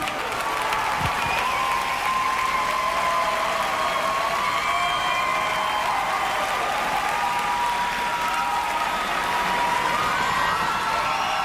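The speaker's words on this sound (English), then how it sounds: "Give them all a big round of applause" A large audience at the MTV Video Music Awards applauds and cheers in a continuous roar, with whoops and shouts over steady clapping that stays loud from start to finish.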